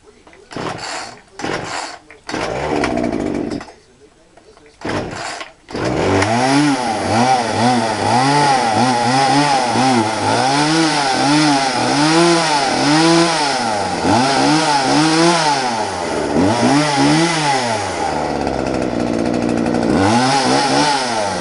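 Chainsaws from a collection run one after another, a few pull-start rattles giving way to a loud, steady two-stroke idle that revs up and down in repeated swells, close by.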